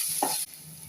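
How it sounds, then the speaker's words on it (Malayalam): Onions fry and sizzle in oil for a prawn biryani, a short close stir with a brief scrape, then a steady soft sizzle. "ഇനി എണ്ണ ഒഴിച്ചിട്ട് നമുക്ക് ഉള്ളി വറുത്തെടുക്കാം"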